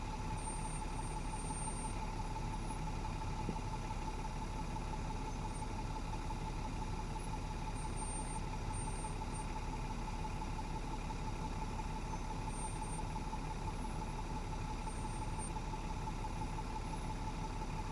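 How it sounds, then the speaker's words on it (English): A four-wheel drive truck with a behind-the-cab crane rumbles steadily on a farm, its engine a constant low drone heard from a moderate distance with no breaks. "This is a behind the cab crane on a four-wheel drive truck chassis"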